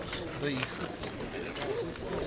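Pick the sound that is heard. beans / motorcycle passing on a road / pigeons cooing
pigeons cooing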